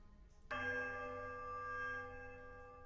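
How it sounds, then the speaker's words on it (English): A heavy iron bell in the video game Pillars of Eternity struck once by its clapper, a low, powerful note with a sharp attack and a long, humming ring that slowly fades. "The clapper strikes a low, powerful note against the heavy iron"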